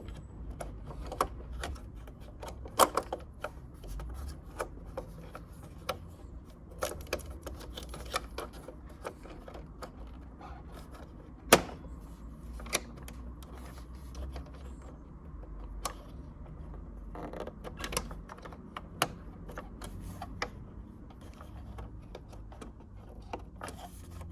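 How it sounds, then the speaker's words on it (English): Small plastic and metal parts click and tap faintly while a drain valve is fitted into a Nivona coffee maker, scattered sharp clicks and light handling noises over a quiet background, close up, no talking. "I'll put the drain valve in."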